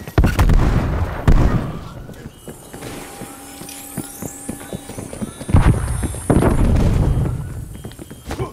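A Semtex grenade blast in Call of Duty: Black Ops Cold War, loud bursts and rumbling booms opening and closing the stretch, with quieter game effects and tonal chirps in between.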